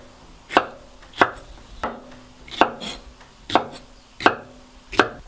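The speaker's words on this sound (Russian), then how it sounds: "И прямо вот такими крупными кубиками нарезаем." A knife dices bell pepper into large cubes on a cutting board, seven crisp, evenly spaced chops at close range in a quiet kitchen.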